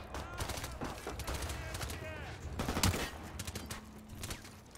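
Gunfire in Call of Duty Modern Warfare Remastered: bursts of automatic rifle fire and scattered single shots crack at varying distances in an irregular, overlapping battle, with faint voices in the background.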